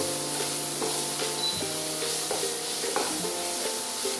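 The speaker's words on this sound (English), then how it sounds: "To this add some salt, give it a nice mix." Onions and salt are stirred in a pot for pearl barley soup, a constant soft sizzle with light scraping knocks of the spoon, close up and alone.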